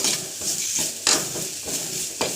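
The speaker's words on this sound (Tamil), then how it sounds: "இஞ்சி பூண்டு பேஸ்ட்டு போட்டு நல்லா வதக்கிட்டு" Ginger garlic paste fries with onions and green chillies in a pan for an egg and cabbage podimas, a close, continuous sizzle broken by repeated scraping stirs of a spatula.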